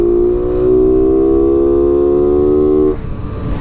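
A Honda Biz 125 motorcycle exhaust revs loud and close, holding a steady droning rev for about three seconds that climbs slightly before cutting off.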